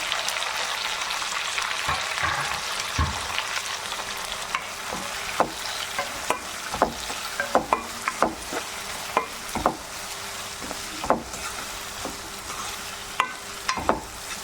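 Chopped tomatoes sautéing with ginger, garlic and green chilli for a simple tomato curry: a soft continuous sizzle in a pan, punctuated by intermittent scrapes and taps of a stirring spoon, close and fairly quiet.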